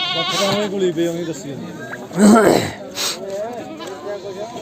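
Goats bleat at a busy goat market in Punjab, amid people talking and crowd noise, with a louder bleat rising briefly near the middle.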